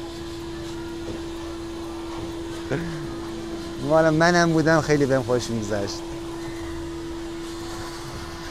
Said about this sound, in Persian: الان اون خانمم داره یه گلدن رتریور رو میشوره، با سشوار داره خوشکش میکنه.